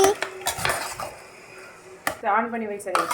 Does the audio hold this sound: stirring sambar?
yes